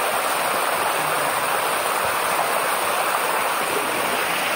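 Loud, steady roar of rushing water at Bugasong Falls, close and continuous throughout with no talk over it.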